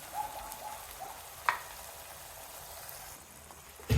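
A ground paste of onion and cashew fries with a soft, steady sizzle in a pan. It is stirred with a few faint scrapes, including one clear scrape midway, and there is no talking.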